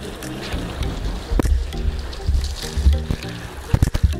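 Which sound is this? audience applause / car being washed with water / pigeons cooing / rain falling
car being washed with water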